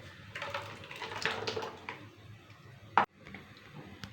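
Vegetable cooking water pours steadily into a pot of horse gram soup with a soft splashing trickle, ending in a brief clink near the close.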